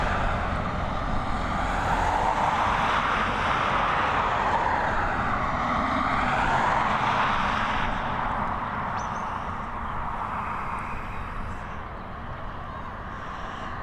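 A British Airways Airbus A320neo roars on the runway at Dublin Airport on a windy day, a loud, sustained broadband jet rumble with a swelling, shifting pitch that eases slightly toward the end.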